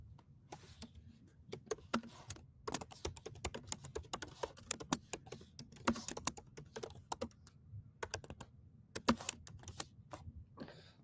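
Fast, irregular typing on a computer keyboard, close and fairly quiet, with crisp key clicks arriving in dense bursts and short pauses throughout, and no speech.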